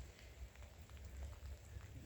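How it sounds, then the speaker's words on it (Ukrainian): Light autumn drizzle falling outdoors, a soft steady patter of rain with a low rumbling background, faint and continuous with no speech. "Капає дощик, мрячить"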